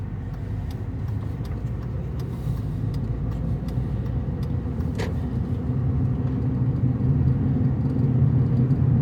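A car drives along the bypass belt line around Ahoskie, North Carolina, giving a steady close interior rumble of engine and road noise that swells gently over the stretch, with no talking.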